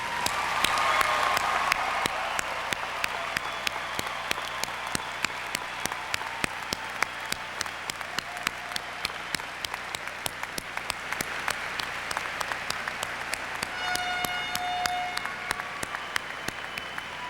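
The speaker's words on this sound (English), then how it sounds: "Please join me in a round of applause for all the graduates." A large audience applauds the graduates at an RPI commencement ceremony for the class of 2001, sustained dense clapping filling the hall throughout with no break.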